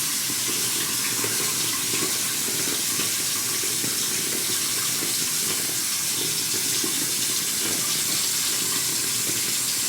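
Water runs steadily from a bathroom tap into a sink while a face is rinsed clean during a night skincare routine, a continuous close splashing hiss with no talk.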